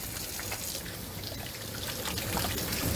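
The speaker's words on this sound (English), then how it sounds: "I'm gonna wash my hands" Hands being washed under a running kitchen tap, a steady trickling splash of water heard close and alone for a few seconds.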